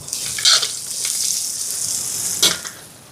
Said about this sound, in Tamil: இப்போ வெங்காயம் வதங்கிட்டு பாருங்க.